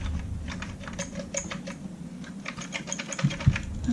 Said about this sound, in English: The plunger seems to be making noise.